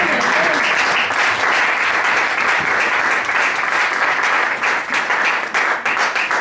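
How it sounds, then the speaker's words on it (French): A church congregation applauds in sustained, dense clapping that fills the room loudly and evenly, tapering slightly near the end. "Acclamons la parole du Seigneur"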